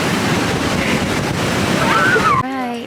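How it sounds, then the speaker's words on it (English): Strong wind in Yosemite National Park buffets the microphone with a heavy, continuous roar, and a voice rises briefly over it near the end. "It's so windy!"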